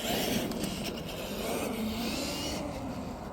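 A brand new Traxxas Emaxx 3906 RC monster truck running on batteries outdoors, a steady high electric motor whine with broadband rushing noise that eases slightly toward the end, continuous and fairly close.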